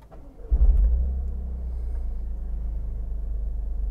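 A Toyota GR Corolla RZ engine cranks and catches with a low thump, then settles into a steady, rumbling idle close by.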